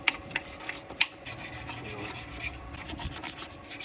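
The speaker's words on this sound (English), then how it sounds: "We're gonna use our toothbrush to get all that hard to get spots." Toothbrush scrubbing grime in hard-to-reach spots of a dirty car engine bay, producing soft, close, irregular bristly rubbing strokes with a few sharper ticks, fairly quiet throughout.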